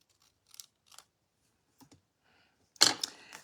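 Scissors cut through paper or cardstock during a stamping craft, a few faint snips at first, then a louder, close, crisp cut near the end, with no talk.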